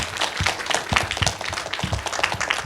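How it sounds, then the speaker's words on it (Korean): Applause at a church gathering welcoming a world church president to speak, a small audience clapping with irregular sharp hand claps, close and moderately loud throughout. "이 회장님 한번 큰 박수로"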